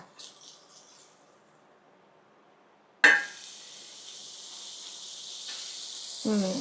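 Butter dropped onto a hot pan, starting with a sudden loud hiss that settles into a steady sizzle after a quiet lead-in, with a faint clatter of utensils near the end.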